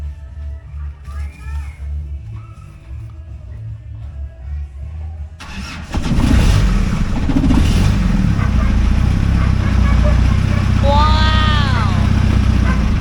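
A Mercedes C240 engine cranks and catches after its heater warm-up, jumping into a loud, rough idle that continues steadily, with a quieter hum and people talking beforehand.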